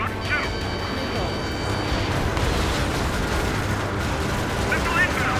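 Combat in the Ace Combat 7 flight game brings missile launches and explosions, with deep rumbling booms and a roaring jet under the game's radio voices.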